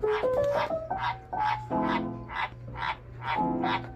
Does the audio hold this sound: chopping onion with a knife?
no